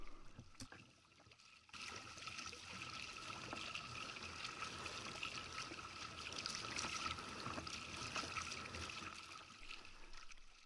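A kayak paddles out a channel through reefs, water splashing and trickling steadily around the hull and blades in a continuous rushing wash, close and moderately loud after a brief quieter start.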